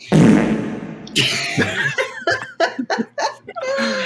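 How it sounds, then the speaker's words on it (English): A loud, drawn-out flatulent blast up close, followed by bursts of laughter and giggling from several people. "You just farted"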